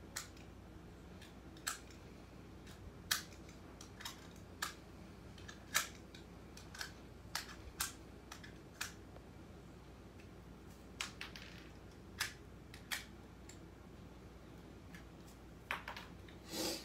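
A blade cutting old hardened gunk off an S14 240SX headlight cover, sharp scattered snips and clicks spaced irregularly over steady low room hum, close and fairly faint, no talking.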